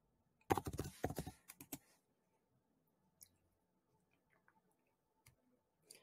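Keys on a computer keyboard clatter in a quick cluster of faint keystrokes, followed by a few scattered, very soft isolated clicks in a quiet room.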